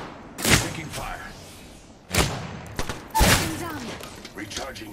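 Gunfire in the game Apex Legends: three sharp bursts of shots arrive about a second apart, loud and close, with a voice speaking between them.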